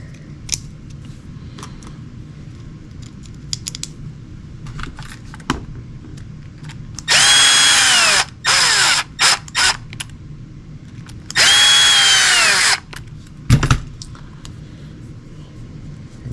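A power tool drives screws back into an Axial UTB18 RC truck, whirring in several short bursts of a second or so, with quieter clicks and handling noises between them.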